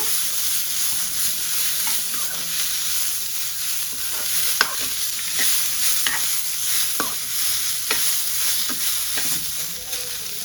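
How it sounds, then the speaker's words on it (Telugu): Mint, coriander, tomato and onions are stirred into a frying masala for stuffed brinjal. A steady close sizzle runs throughout, broken by the occasional click and scrape of a spoon against the pan, with no talking. "అలాగే పుదీనా కొత్తిమీర టమాటా కూడా వేసుకుంటాను బాగా అయితే కలుపుకోలా"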